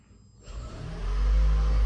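A car engine cranks and catches after a brief quiet moment, then revs up into a steady, close, fairly loud mid-pitched roar.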